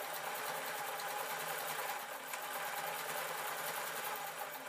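A sewing machine stitching through felt gives off a steady, fast mechanical rattle that runs evenly for several seconds, fairly quiet and with no voices.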